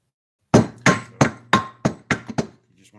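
A hammer strikes aluminum eight times in a quick, slightly accelerating series of sharp metallic blows with a short ringing tone, loud and close, after half a second of silence.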